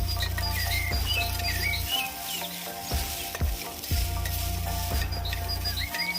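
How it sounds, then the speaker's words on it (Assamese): Elephant apple pieces sizzle in a pan with ginger and garlic while being stirred for achar, a steady loud frying hiss broken by scraping strokes, with faint birdsong in the background. "এতিয়া অলপ ভাজি ল'ম।"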